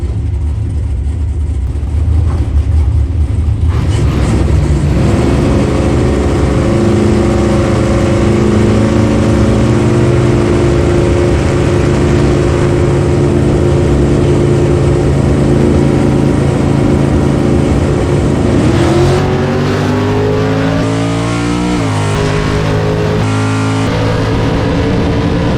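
A drag race car at a Memorial Day race roars loudly, engine note holding a heavy steady drone, then rising sharply in pitch as it accelerates near the end, no talking.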